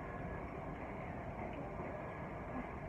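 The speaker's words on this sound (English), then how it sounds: "Look, there's a train coming." London Underground tube train arriving at a station during the Coronavirus period, a steady loud rumble of wheels and motors filling the platform throughout, with no voices.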